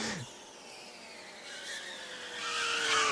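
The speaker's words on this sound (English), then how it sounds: "The car sounds like it's screaming." A race car engine screams at high pitch in Gran Turismo 3: A-Spec, its whine sliding steadily downward before surging louder again near the end, loud and close.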